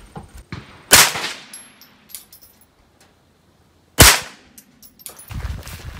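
Two sharp, loud rifle cracks about three seconds apart from a Grey Birch Fusion 10/22 fired outdoors on a windy day. Each shot is followed by a brief ringing tail, with quieter handling clicks in between.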